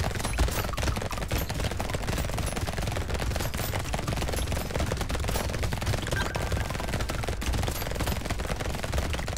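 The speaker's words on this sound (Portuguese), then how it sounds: "as balas voando" Dense, continuous gunfire from bullets flying in the video game Brotato, a loud rapid hail of overlapping shots and impacts filling the scene with no gaps.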